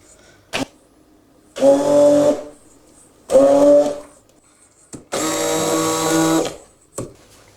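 Electric mixer beating eggs and sugar into a creamy cake batter, heard in three loud whirring bursts of about a second each, separated by short pauses and brief clicks as it is switched on and off.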